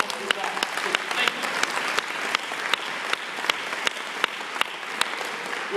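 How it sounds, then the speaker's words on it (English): An audience at a high school awards ceremony claps for the teachers, a steady wash of applause with a few sharp, prominent claps repeating near the microphone in a regular rhythm. "And these guys, clap it up for the teachers."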